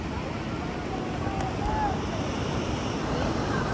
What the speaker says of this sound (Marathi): खूप जोरात चालू आहे पाऊस.